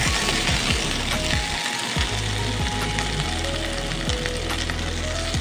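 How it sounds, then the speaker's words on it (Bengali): Vegetables sizzle and crackle steadily in a hot pan, a loud continuous hiss with occasional clicks of a utensil. "দেখুন সব সবজিগুলো প্রায় কিন্তু ভাজা হয়ে গেছে"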